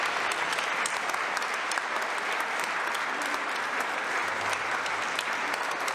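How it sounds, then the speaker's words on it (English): Audience applause at a democracy town-hall conversation, a dense, sustained round of clapping from a full room, steady and loud throughout. "Let's give all of our questioners a big round of applause."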